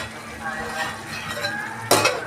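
Chicken simmering in a pot after tempering is stirred, with utensil scrapes and light clinks over a low bubbling bed and a brief louder clatter near the end.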